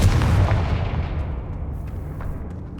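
A Confringo blasting spell goes off in Hogwarts Legacy, a loud booming burst with a heavy low rumble that decays over a couple of seconds.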